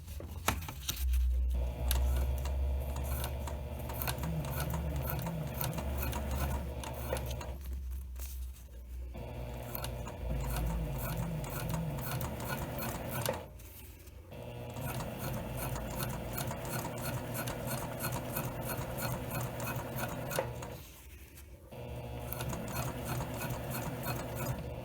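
A sewing machine stitches fabric and zipper tape for a small pouch, running in long steady whirring stretches with rapid needle ticking, pausing briefly a few times, close and without any talk.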